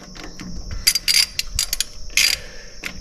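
Ratcheting clicks and metallic clatter as the fence on a Woodmizer MP260/MP360 moulder is tightened, coming in short bursts of several quick clicks with brief pauses between, close and fairly loud.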